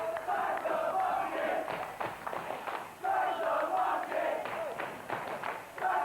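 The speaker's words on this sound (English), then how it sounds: "The crowd getting right on Mark Sloan's back, calling him a monkey." A wrestling crowd jeers at a wrestler during an FWA Frontier Wrestling match, loud rowdy shouting that swells and dips in waves, with a few thuds from the ring.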